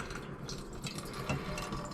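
Dirty solution left from gold recovery of purple ceramic CPUs is poured off, producing a brief, soft trickle and splash of liquid close by.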